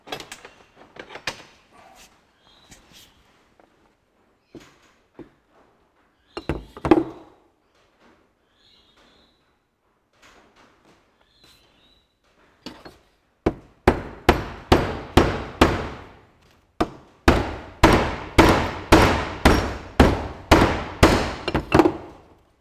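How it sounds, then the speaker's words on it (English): A hammer taps on a Ferguson TE20 tractor distributor part during restoration: a few scattered knocks early, then a fast steady run of sharp, close metallic taps near the end, with no talking. "I'll give that a bit of a tap."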